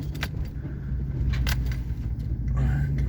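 A vehicle passes close by on a dirt road, a steady low rumble that swells over a few seconds, with a light jangle of keys at times and no one speaking.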